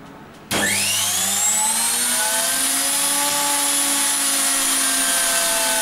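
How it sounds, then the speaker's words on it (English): An AC washing machine motor is wired to a test rig and run on mains power. It starts with a sharp switch-on and spins up with a rising whine. It then runs at a steady, loud, tonal hum with high harmonic whine. "So now we'll start the motor up."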